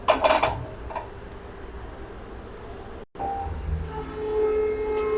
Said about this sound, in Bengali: প্যানটা বসালাম